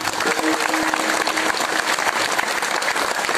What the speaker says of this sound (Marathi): मृदंगाचार्य महाराजांसाठी जोरदार टाळ्या वाजवा.